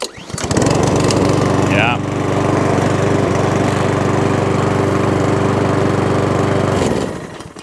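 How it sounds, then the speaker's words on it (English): A 2016 Mountfield 464 petrol lawn mower engine runs loud and close, a steady buzzing drone for several seconds before cutting off, with a brief voice heard over it. "That is 2016 Mountfield, now all up and running."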